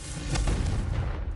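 A Confringo spell blast in the video game Hogwarts Legacy, a single short booming burst over a dense rumbling bed, loud and close.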